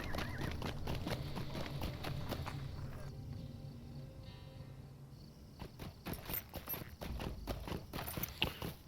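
Horse hooves clip-clopping in the video game Lord of the Rings Online, a steady rhythmic walking gait with clusters of hoof strikes, clearest toward the end, over faint game ambience.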